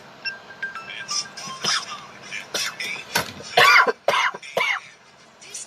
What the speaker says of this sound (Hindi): पता नहीं क्यों इतनी सख्त खांसी आ रही है।